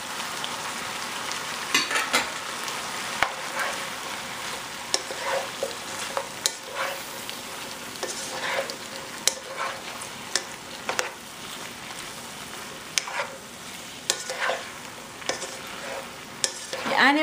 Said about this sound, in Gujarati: આને પકાવશું આપણે એટલું સુધી કે મશરૂમ્સ જરાક પોચા થઈ જાય.